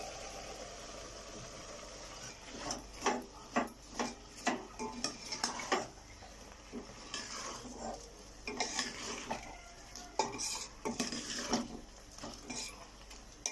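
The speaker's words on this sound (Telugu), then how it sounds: "ఇప్పుడు ఇందులోకి రైస్ని వేసేసుకుంటున్నాను" Rice goes into a pot of bottle gourd pieces and lentils for kichidi, with scattered clinks and scrapes of a utensil against the pot, faint and close under a low background hum.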